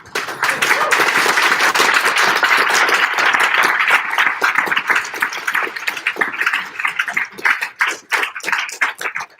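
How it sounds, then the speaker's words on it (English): An audience at a thesis defense claps, strong and full at first, then thinning into scattered individual claps as it winds down. "we give again a big applause"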